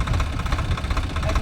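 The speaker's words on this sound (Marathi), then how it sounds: "इंजिन चालू करा, 0 RPM" A tractor engine idles at a field ploughing demonstration, a loud, close, evenly pulsing low throb with faint voices in the background.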